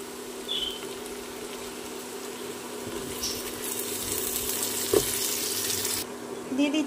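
Ginger paste fries in a pan and is stirred while cooking a Bengali lote (Bombay duck) bhuna, with a steady, close sizzle throughout and a few scraping stirs. No talking.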